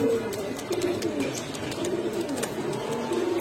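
A pair of gola chuithal pigeons coo softly at close range, low repeated burbling calls over a busy background of faint voices and chatter.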